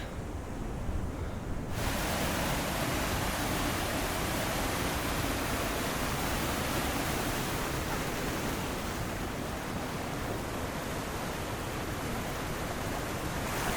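Small waterfalls spilling into a pool along the Rubicon Trail off-road route, a steady broadband rush of water that swells in after a brief quieter start and holds constant and fairly close with no voices.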